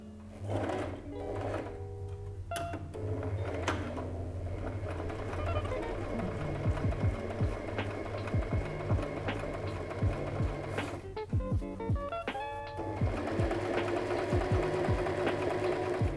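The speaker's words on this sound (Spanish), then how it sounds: "lo vamos a pisar por encima con una puntada recta" Sewing machine running a straight topstitch along a pencil case, a steady mechanical whir with rapid needle clatter, briefly pausing midway, then resuming, loud and close with no talk.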